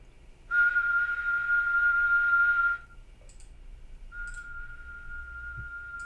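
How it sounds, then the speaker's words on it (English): A single sustained whistled note held clear and loud for about two seconds, after which a fainter steady tone of the same pitch returns, with a few soft clicks in between. "I'm just gonna whistle 1 note"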